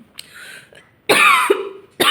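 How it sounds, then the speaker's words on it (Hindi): A loud, harsh cough bursts out close by, followed by a second short cough after a brief pause, with quiet breaths in between. "मेरे को भी खांसी उठ रही है,"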